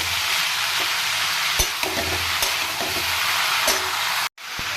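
Chopped banana flower stir-fries with spices and coconut paste in a pan, giving a continuous bright hiss of frying broken by several sharp spatula knocks and scrapes, near and fairly loud, with no talking.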